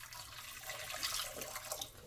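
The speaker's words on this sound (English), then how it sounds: "now let's add in 1½ cup of water" Water poured from a tap or jug into a stew pot on a kitchen stove while making traditional Irish stew, a steady close splashing and gurgling stream with no talk.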